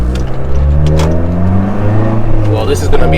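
A supercharged car engine is punched to full throttle, its loud rising whine and roar climbing steadily through the short burst while a voice talks faintly over it.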